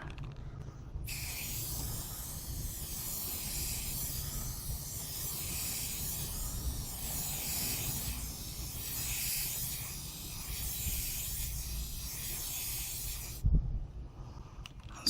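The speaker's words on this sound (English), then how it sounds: "Now we're going to try to spray the outside." A spray can hisses steadily as a coating is applied to the outside of a sanded turntable dust cover, a continuous close airy spray that stops abruptly near the end, followed by a soft knock.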